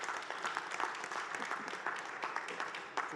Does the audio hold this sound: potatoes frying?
no